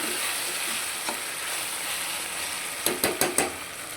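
Ginger garlic paste frying in a pan for mutton curry, a steady close sizzle with a few quick metallic clinks of a utensil against the pan near the end.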